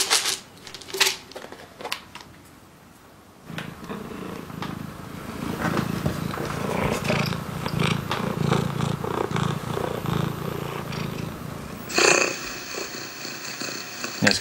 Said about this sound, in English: this is the purr that cats do when they want something from their owners